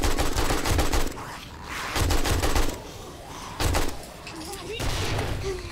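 Explosions in the survival video game 7 Days to Die, heard as repeated loud blasts and rumbling bursts in three or four waves, mixed with other game noise.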